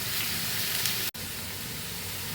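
Bitter gourd frying in a pan while being stirred, a steady bright sizzle and hiss with a brief dropout partway, moderately close and without voices.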